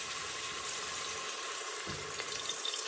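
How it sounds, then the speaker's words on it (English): Pork pieces frying in hot lard for carnitas, a steady broadband sizzle close by with a brief louder bubbling burst near the middle, no voices. "So now our lard is ready, so we're gonna seal our meat."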